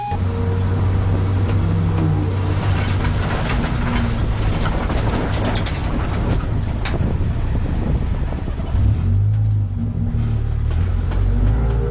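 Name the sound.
race car accelerating back up to racing speed at the Nürburgring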